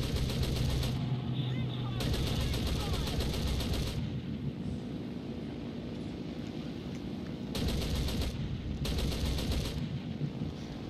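Sustained bursts of machine-gun fire hit the player's plane in the World War II flight game War Thunder, loud, dense and rattling, over a constant engine drone, with several gaps between volleys.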